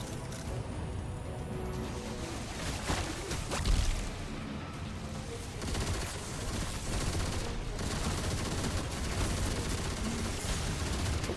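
A machine gun fires in the Destiny video game, dense continuous bursts of rapid shots with a heavy thump partway through, loud and close with no talking.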